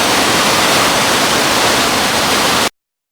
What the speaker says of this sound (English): here's a video of Little Wilson Falls, about 6 miles into our start of the 100 mile